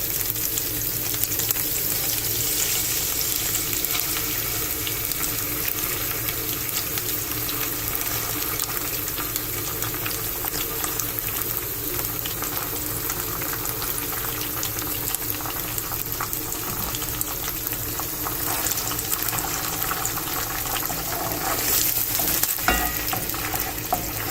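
Tomatoes frying in a pan, sizzling steadily and densely for a long stretch, with occasional stirring scrapes and crackles and no voices.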